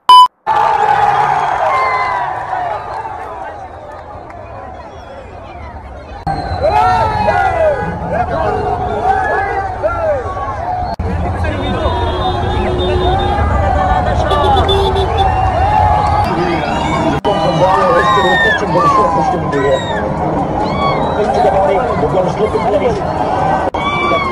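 A large crowd celebrates Afghanistan's cricket win with a loud, continuous roar of cheering, shouting and excited babble that swells and stays dense throughout.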